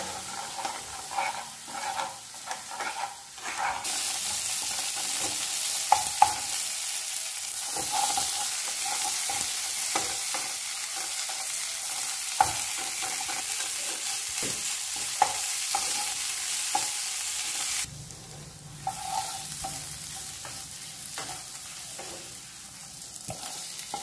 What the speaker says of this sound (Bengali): রুই মাছ, ভেজে রাখা রুই মাছ সর্ষেটির ভিতর দিয়ে ভালো করে আমি নেড়ে নিচ্ছি